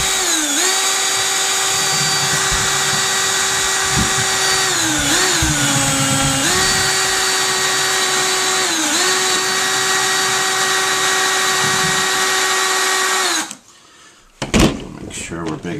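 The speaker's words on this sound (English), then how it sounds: "I'm going to drill a hole right here." A power drill whines loudly and steadily for several seconds, drilling a hole in a Honda EU2000i generator, dipping in pitch a few times as it bites, then stops abruptly with a rattle.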